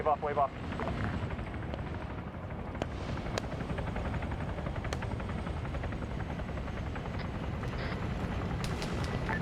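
A video-game helicopter's rotor thumps in a constant, dense chopping drone that fills the whole stretch, steady and fairly loud, with a few sharp clicks and bursts scattered over it.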